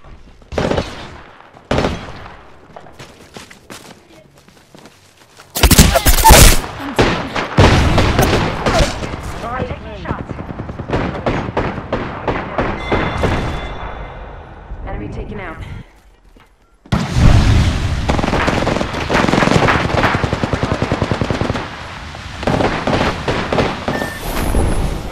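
Bursts of loud gunfire and explosive booms from the video game Apex Legends come in clustered volleys with short pauses, mixed with someone talking over the action.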